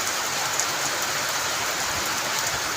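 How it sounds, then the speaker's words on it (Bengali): Steady rain falls on the first day of rain of the Bengali month of Ashwin, a dense, even hiss of drops that holds unbroken throughout with no voices. "খুব সুন্দর চমৎকার বৃষ্টি"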